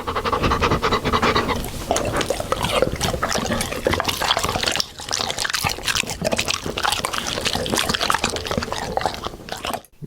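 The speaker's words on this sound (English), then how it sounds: "That is the sound of two dogs eating there." Two Labrador dogs eating breakfast, a steady wet crunching, lapping and chewing noise that runs continuously up close for about ten seconds with no talk.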